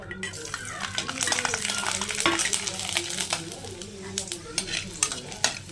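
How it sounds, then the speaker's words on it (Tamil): Four garlic cloves and a piece of ginger fry in a pan, a busy close sizzle with frequent spoon stirs and scrapes clattering over it, with no one speaking. "இப்போ நம்ம 4 பல்லு பூண்டு அப்புறமா ஒரு துண்டு இஞ்சி போட்டு நம்ம வறுத்து எடுத்துக்கலாம்"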